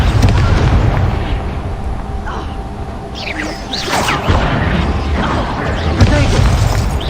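Confringo fire spell blasting in Hogwarts Legacy combat, a dense, loud rumble of explosive bursts and booms running throughout, with sharper impacts near four and six seconds amid a busy battle mix.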